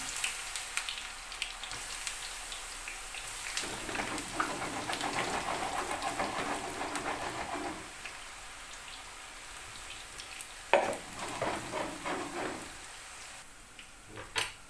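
Steady crackling and popping of chopped eggplant frying in half a litre of hot oil, continuous and fairly close, with brighter spatters near the end.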